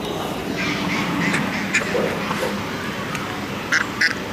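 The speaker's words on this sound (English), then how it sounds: "We've got ducks behind us as well, everywhere." Ducks quacking outdoors near a pond with swans and geese around, a few short quacks coming through steady background noise, moderately close.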